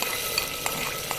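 Tomato paste from about three tomatoes frying in hot ghee, a steady broadband sizzle with a few soft stirring scrapes, close and moderately loud with no voices.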